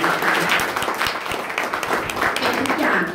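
An audience claps loudly and steadily throughout at an indoor event, a dense continuous wash of applause, with a voice faintly mixed in beneath it.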